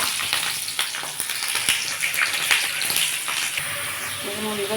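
Snake gourd fries in a pan with cumin seeds and green chilli, giving a steady wet sizzle with scattered crackles and pops throughout, close and moderately loud.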